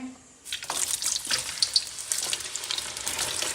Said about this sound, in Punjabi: ਗਰਮ ਹੋ ਗਿਆ ਤੇ ਹੁਣ ਆਪਾਂ ਇਹਦੇ ਵਿੱਚ ਨਾ ਗਾਜਰਾਂ ਪਾ ਦਿੰਨੇ ਆ